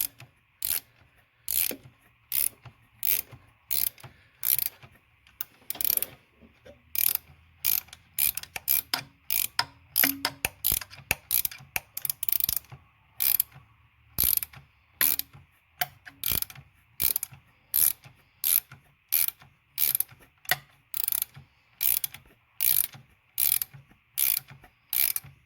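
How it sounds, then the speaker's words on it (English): A valve spring compressor tool works on a valve spring in the cylinder head of a 2006 BMW 750i N62 V8. It makes a long run of sharp, regular ratcheting clicks with brief pauses, close and loud, and no one speaks. "I like to compress the spring past these marks"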